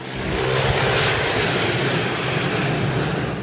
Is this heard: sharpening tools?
no